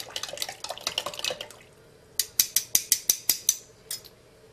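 Soil sample stirred with distilled water and dispersant solution in a lab: a rapid run of clinking, scraping strokes, then a pause and about eight sharp, evenly spaced metallic clacks, fairly close and loud with no talk.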